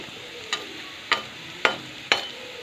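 Onion, garlic and ginger fry in oil with cumin powder and black pepper powder, a steady sizzle under four evenly spaced scraping strokes of a spatula against the pan.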